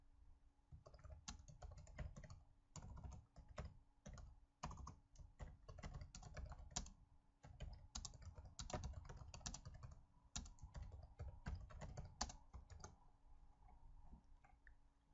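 Steady typing on a computer keyboard, a close, busy run of key clicks in quick uneven bursts with brief pauses, going on alone throughout.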